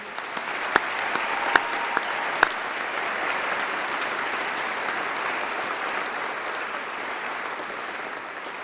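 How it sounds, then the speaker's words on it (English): Graduation ceremony audience giving a sustained round of applause, an even wash of many hands clapping in a large hall, with a few sharper individual claps standing out early on. "Give yourselves another round of applause."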